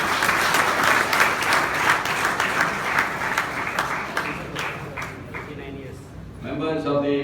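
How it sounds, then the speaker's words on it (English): An audience of students and guests at a college clubs day fills the room with sustained, dense applause that holds steady for several seconds before thinning out as a voice begins to speak. "they're applauding your youth"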